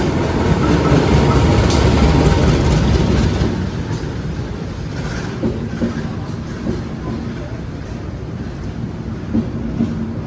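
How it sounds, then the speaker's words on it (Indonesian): The Batavia passenger train from Gambir pulls into a station platform with a loud, close, heavy rumble and rattle of wagons that eases after a few seconds into a lighter rolling clatter. "Masuk kereta api Batavia dari Gambir dengan tujuan akhir Solo Balapan di jalur 4."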